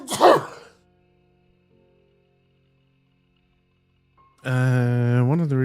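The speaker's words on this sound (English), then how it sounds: "I'm gonna sneeze." A single loud sneeze bursts out at the very start, followed by near silence, then a sustained voiced groan or vocal sound rises near the end.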